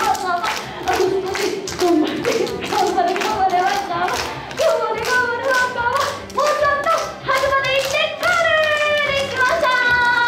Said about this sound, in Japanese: それではあと半分手拍子で応援です